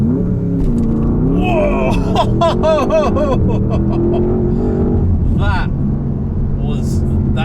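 A 2021 facelift Porsche Panamera Turbo S launches hard on launch control, its engine loud and close as it builds through rising revs, while a voice exclaims over it.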